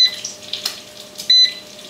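An air fryer beeps as its temperature is set to about 380 degrees: two short, clear electronic tones a little over a second apart, close by in a quiet kitchen with faint background noise.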